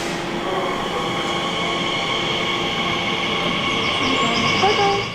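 An Elizabeth line train rumbles steadily as it pulls away from Ealing Broadway station, wheels clattering on the rails with a faint high squeal rising near the end.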